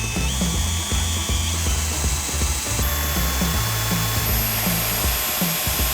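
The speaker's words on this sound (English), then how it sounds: "we're going to use a Forstner bit" A Forstner bit drills out the wooden block of a pinewood derby race car, making a loud, close mechanical whir with a rapid chattering, ratchet-like pulse and high whining tones that shift partway through.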